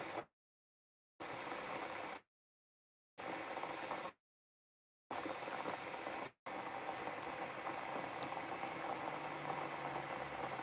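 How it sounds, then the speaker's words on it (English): An electric kettle heats water for coffee on a touring trip in Great Yarmouth, giving a faint steady rushing roar that is chopped by several abrupt silent gaps before running on unbroken. "I'm going to boil the kettle on now."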